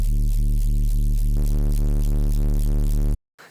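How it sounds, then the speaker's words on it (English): A deep, buzzing mid-tempo bass synth tone with a fast pulsing distortion holds steady for about three seconds, then cuts off abruptly. "First we have this fast distortion,"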